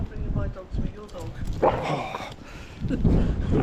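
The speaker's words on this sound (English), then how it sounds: "A vicious dog." A dog gives a few short yips and barks in an outdoor setting, mixed in with people talking nearby and footsteps.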